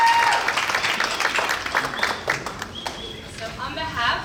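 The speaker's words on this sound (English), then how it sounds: "Another round of applause for that." Applause from a conference audience at an opening session swells at once and then tapers off, scattered claps and crowd noise fading under a speaker's voice near the end.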